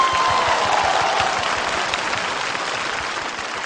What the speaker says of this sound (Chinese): 朋友们，现在鼓掌还太早。